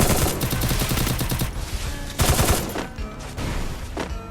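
Automatic gunfire in a battle royale tournament video game crackles in rapid bursts of close, loud shots with short gaps between volleys.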